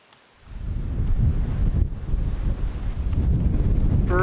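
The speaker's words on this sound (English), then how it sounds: "Pretty cold wind" Cold wind blows on the GR20 mountain hiking trail in Corsica. After a brief quiet start it turns into loud, continuous buffeting roar and rumble against the microphone.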